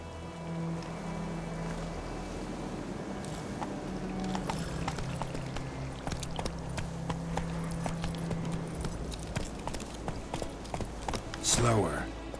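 Roach the horse galloping in The Witcher 3, with a steady rhythmic clip-clop of hooves running throughout beside water-like ambience, and a voice breaking in near the end.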